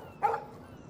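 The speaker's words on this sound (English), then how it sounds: "No barking." A single short dog bark in the game Life Is Strange sounds at moderate distance against a quiet, low background, followed by a faint second yip.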